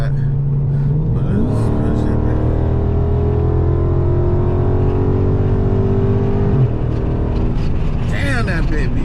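A Dodge Charger Scat Pack accelerates hard through traffic, its engine droning loud and close with the pitch climbing and dropping through gear changes, while voices talk over it.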